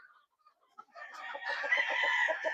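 Brood hens cluck in a close group, with faint scattered calls at first, then a dense, lively run of overlapping clucks and squawks that stays loud to the end.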